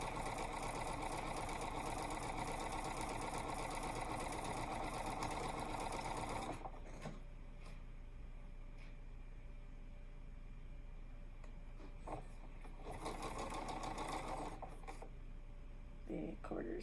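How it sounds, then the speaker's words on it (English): A sewing machine runs steadily, stitching quilt squares and strips, then stops abruptly and starts again briefly near the end. The motor's hum sounds close and even. "I can pick them up and stitch them"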